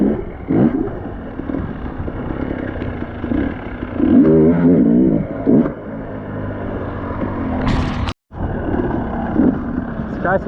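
KTM 300XCW and 250XCW two-stroke dirt bikes on a back-to-back ride test, the engine buzzing and revving in blips beneath a rider's talk, with a steady hum between surges.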